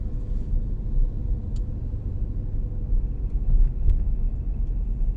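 A car drives slowly through traffic around the Paphos bus terminal in Cyprus, with a steady low engine and road rumble filling the cabin and no voices.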